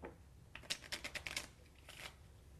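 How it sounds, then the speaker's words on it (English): A deck of playing cards being shuffled, a quick run of crisp riffling flutters in two bursts, close and moderately quiet, with no talk over it. "Shuffle them again."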